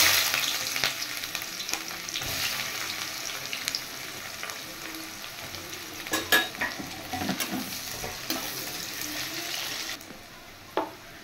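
Chopped onions frying in oil in a wok, a continuous close sizzle with repeated scraping and clinking of a stirring spoon, easing off a little toward the end.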